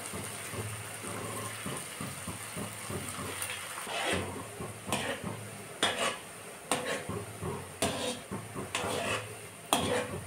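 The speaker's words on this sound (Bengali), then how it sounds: "এবার ভেজে নেব সবগুলোকে।" Shaped dough pieces frying in hot oil in a wok (kadai), with a steady bubbling sizzle and repeated clinks and scrapes of a utensil against the pan, fairly close.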